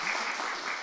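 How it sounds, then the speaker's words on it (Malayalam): A short burst of audience clapping for a singer, brief and continuous, with a voice faintly beneath it. "ഒന്ന് ഒരു കൈയടി."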